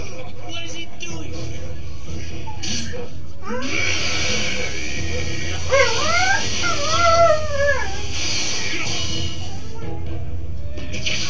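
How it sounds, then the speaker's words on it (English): A dog whimpers and lets out high, wavering yips and whines, close and fairly loud, the cries rising and falling in short bursts over a constant background hum. "That would be my dog."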